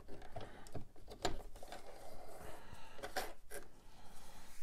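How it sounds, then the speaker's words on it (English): A sewing machine stitches fabric while a pair of boxer briefs with a sack pouch is being made. It runs in short, uneven bursts and stops, with a steady mechanical whir and a few sharper clicks at a moderate, close distance. "then I'm going to sew a little bit beyond this, about an inch, and then I'll take it out"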